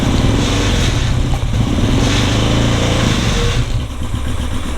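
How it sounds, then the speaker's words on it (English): A Royal Enfield Continental GT535 motorcycle engine revs up loudly from close range, its throbbing thump rising and holding with a couple of surges and slight dips, alone with no talking. "Then you rev the engine"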